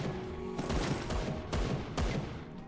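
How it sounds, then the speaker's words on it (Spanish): Bursts of rapid gunfire crackle in several volleys with brief gaps, loud and close, over a constant noisy game background. "¿Escucha los disparos?"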